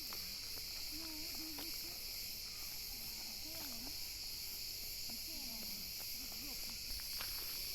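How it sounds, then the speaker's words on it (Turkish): Constant high-pitched cricket chirping fills the background outdoors in Fethiye, Turkey, with faint scattered bird calls and rustling underneath. "Cırcır cır böceklerinin seslerini dinleteyim size."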